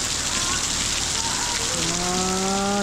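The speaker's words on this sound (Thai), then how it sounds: "ฝนตกนะนี่นะ" Steady rain falls on a surface outdoors at a rural family home, a constant close hiss with voices talking over it partway through.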